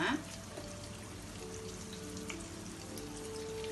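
Double-coated chicken wings fry slowly in hot oil, giving a steady, soft crackling hiss that runs evenly throughout at low volume.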